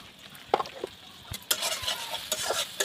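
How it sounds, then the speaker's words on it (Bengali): A spoon stirring turmeric, chilli, salt, tomato and onion frying in a pan for fish curry, with scraping and clinking strokes at irregular intervals over a soft sizzle. "একটু দিয়ে নাড়াচাড়া করবো, একটু টমেটো পেঁয়াজ মশলা একটু মজে যাবে"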